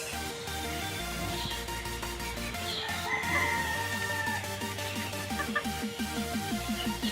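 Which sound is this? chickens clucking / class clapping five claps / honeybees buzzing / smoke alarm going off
chickens clucking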